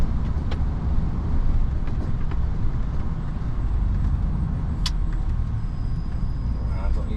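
A delivery vehicle on a road, its engine rumbling steadily up close as it turns around at a road closure, with faint clicks and road noise throughout.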